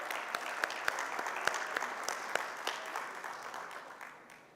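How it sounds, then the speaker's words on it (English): An audience at a children's forum applauds the foundation team, a sustained burst of clapping with a few sharper claps standing out before it gradually tapers off. "give a big round of applause to our Fourth Way Foundation team"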